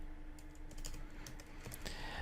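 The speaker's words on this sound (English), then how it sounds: "type a name to data lake" A quick run of computer keyboard keystrokes entering a name into a field, crisp clicks at an uneven rhythm over a faint steady hum, with no voices.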